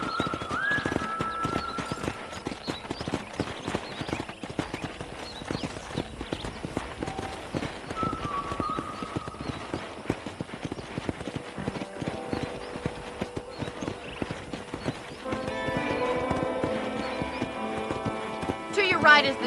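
Rhythmic clip-clop of horse hooves during a ride in the video game Red Dead Redemption, steady throughout, with brief whinnies and neighs, bits of background music and a voice speaking over it.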